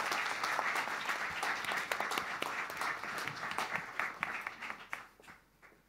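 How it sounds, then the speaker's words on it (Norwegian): A conference audience claps in sustained applause, individual claps audible in the mix, gradually thinning and fading away. "Gi en god applaus."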